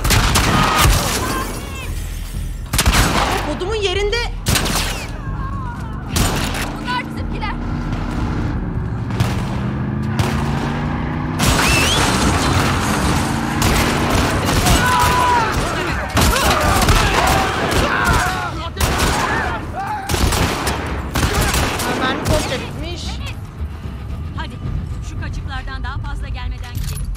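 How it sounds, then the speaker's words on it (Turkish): Rapid gunfire and booming explosions from combat in the video game The Last of Us Part II, with loud, dense bursts of shots running nearly the whole time. "Silah sesleri."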